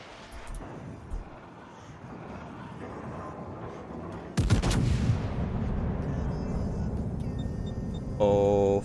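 Warship guns firing armour-piercing shells in a World of Warships ranked match, with a sharp, loud blast midway that rings out and decays into a sustained rumble, plus a further burst near the end.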